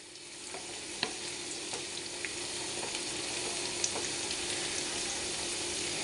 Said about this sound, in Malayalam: വെളുത്തുള്ളിയും ഇഞ്ചിയും ഇതിൽ കിടന്നൊന്ന് വഴണ്ട്